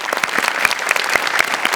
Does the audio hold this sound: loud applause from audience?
yes